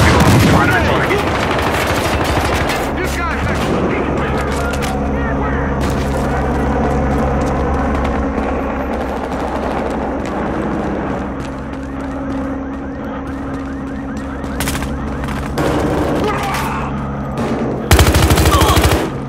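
Rapid automatic gunfire with bursts and explosive booms from a video game firefight, loud and dense throughout, with brief voice lines mixed in.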